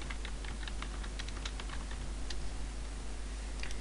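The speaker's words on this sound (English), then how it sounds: "The password, you type in whatever password you want." Rapid, irregular keystrokes on a computer keyboard as a password is typed, a steady run of close, crisp clicks over a low constant hum with no talking.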